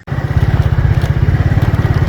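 A motorcycle engine idles loud and close in a rural Pakistani setting, a rapid, even low putter that starts abruptly and holds steady throughout, with no voices.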